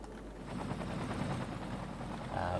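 A helicopter in the city-building game Cities: Skylines hums with a steady, faint rotor drone, with no one talking over it.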